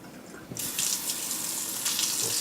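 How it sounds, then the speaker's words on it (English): Hot water gushes from a kitchen tap into a sink during cleanup after making coconut almond yogurt, starting abruptly after a quiet moment and running steadily and close with slight splashing changes. "Ooh, got the water on hot."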